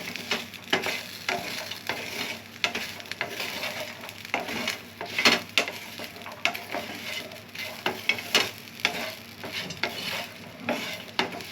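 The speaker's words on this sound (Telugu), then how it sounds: "చూడండి వేగిపోయాయి మనం సిమ్లో పెట్టే వేయించుకోవాలి ఇవి" Food frying on a low flame in a pan, a steady soft sizzle with repeated stirring scrapes and occasional utensil clinks against the pan, close and continuous throughout.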